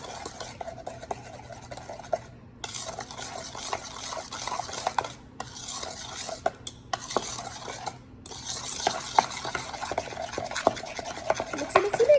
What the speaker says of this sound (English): So let me grab my mixing spoon. I'm just gonna mixy.